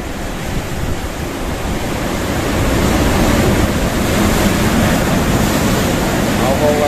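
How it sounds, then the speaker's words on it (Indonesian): Large ocean waves break on Java's south coast, a broad continuous roaring wash that swells louder midway and stays heavy, with wind buffeting the microphone and a person speaking faintly underneath. "Katanya kalau Kanjeng Ratu itu keluar, ini ombaknya menjadi besar gitu"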